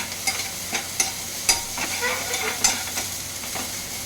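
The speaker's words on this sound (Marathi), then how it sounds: "आता छान परतवून घेणार आहे तो." Onions seasoned with salt and black pepper sauté in a pan, giving a close, steady frying sizzle, with regular stirring scrapes and taps every half second or so.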